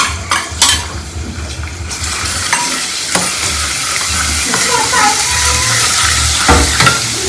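Crushed ginger and garlic frying in a little oil, a steady loud sizzle with stirring scrapes and occasional utensil clinks against the pan, no voices.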